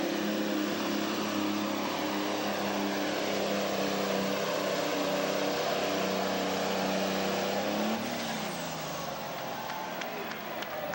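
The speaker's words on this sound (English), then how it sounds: "This is a good running truck." A heavy pulling truck engine drones continuously at high load with a steady, dense roar, then the pitch drops off as it eases near the end.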